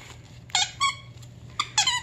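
A stretchy dog chew toy gives four sharp, close squeaks in two pairs, with quiet pauses between them.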